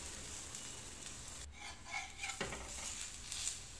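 Thalipeeth roasting on a pan in a home kitchen gives a soft, steady sizzle close by, with brief utensil scrapes and clinks partway through and no talking.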